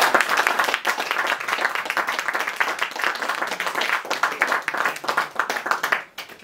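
An audience at a salon talk breaks into sustained applause, many hands clapping together in a dense, even roar that holds steady and then thins out near the end.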